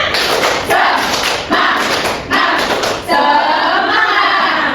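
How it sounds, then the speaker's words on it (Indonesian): A classroom of students doing tepuk semangat, a patterned group clapping chant, giving loud rhythmic bursts of claps and slaps that end in a sustained flurry, with voices mixed in. "Oke, kita tepuk semangat terlebih dahulu ya"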